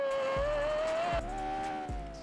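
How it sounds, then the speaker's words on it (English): Lexus LFA engine in the Roblox game Pacifico 2, a high-pitched revving tone climbing steadily with gear shifts, loud and close, with repeated low thumps and no talking. "Oh, that car sounds so good,"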